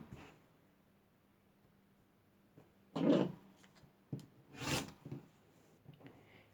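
Scissors or a rotary cutter trims the edges of sewn four-patch fabric quilt squares, giving a few short scraping, rasping cuts close by in a quiet room, with no talking.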